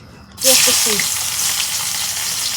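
Chopped onion hits hot frying oil for a fish curry with bottle gourd, bursting into a loud, steady close-up sizzle that holds throughout. A brief voice is heard just before it begins.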